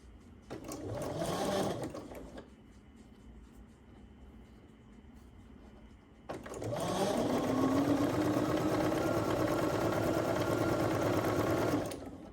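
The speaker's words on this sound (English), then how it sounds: "So now we are ready to sew these together." A sewing machine stitching quilt pieces together runs in a short burst, pauses to a low hum, then runs again in a long steady whirring stretch, close and continuous.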